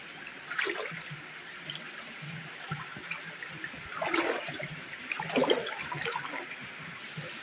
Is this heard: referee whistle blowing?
no